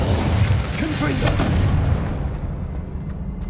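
A Confringo blasting spell erupts in Hogwarts Legacy, a heavy booming burst with rumbling low end that swells, then fades out over a few seconds.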